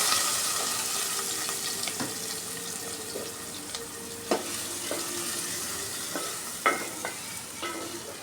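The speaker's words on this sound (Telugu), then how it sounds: "ఈ ఆయిల్లో నేను ఉల్లిపాయ పచ్చిమిర్చి వేసేస్తున్నానండి" Chopped onion and green chilies sizzle steadily in hot oil in a pan for a curry, a close, even frying hiss broken by occasional clicks of a stirring spoon, with no voices.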